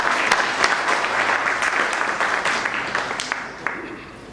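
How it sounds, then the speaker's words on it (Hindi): Loud applause welcoming the chief guest, Major Tomar, at an Azadi Ka Amrit Mahotsav event, with close, crisp claps over a dense crowd clapping, continuous for several seconds. "जोरदार तालियों से सर का स्वागत।"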